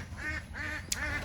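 Ducks on a farm give repeated nasal quacks in three short bursts, moderately loud and fairly close, with a brief sharp knock between the last two.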